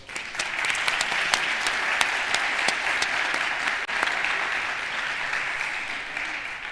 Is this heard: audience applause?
yes